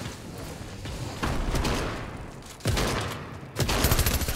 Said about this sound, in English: I don't know where I'm getting shot at from